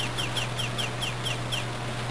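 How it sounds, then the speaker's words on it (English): Repeated chicken clucks from a newly bought chicken in a coop in the Harvest Moon: Friends of Mineral Town video game, a steady rhythmic series of short chirpy calls over a constant low game hum. "Let's go see our chicken, guys!"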